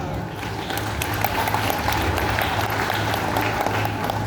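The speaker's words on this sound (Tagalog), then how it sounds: "Palakpak." Guests at a Girl Scouts of the Philippines provincial junior camp welcome ceremony clap continuously for an introduced official, a steady mid-level wash of applause with a low hum and some talking beneath.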